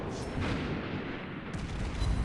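Naval guns fire at an enemy ship in a warship video game: heavy booming artillery rolls out in a dense, sustained rumble, loud and close, with no talk over it.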